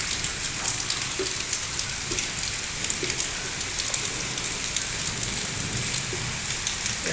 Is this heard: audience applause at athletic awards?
no